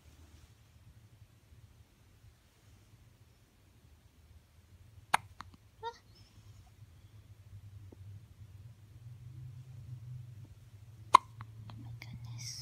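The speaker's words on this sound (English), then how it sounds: "You got hiccups, little one?" A tiny baby hiccups, with a few sharp, brief, quiet hiccups spaced several seconds apart over a low, steady background hum.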